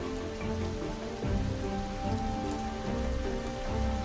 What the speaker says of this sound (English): Forget the rain.